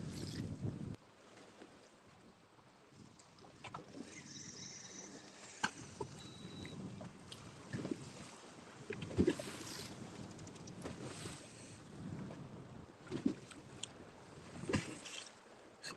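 Wind on a lake during bass fishing from a boat, a steady rushing buffet across the microphone with low gusts and occasional knocks and creaks of the boat, quiet overall and with no talking.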